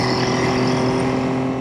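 A Triumph Trident T160 triple-cylinder motorcycle running in fifth gear, a loud, steady engine drone with strong harmonic tones held evenly throughout.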